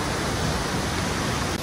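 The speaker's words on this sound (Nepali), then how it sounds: "अब यो कति गडगडाएर यो झर्नाको पानी झरिरहेको छ" A waterfall in Koshi Province, swollen by late-monsoon rain, roars as a loud, steady broadband rush of falling water with no voices over it.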